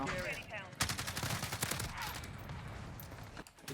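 Rapid video-game gunfire in Modern Warfare, a dense burst of shots layered with a player talking, loud and close over a few seconds.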